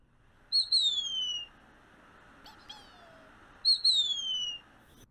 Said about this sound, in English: So I'm going to play a Mississippi kite for you.